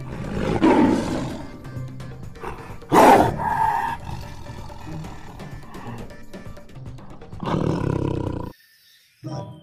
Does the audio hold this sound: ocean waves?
no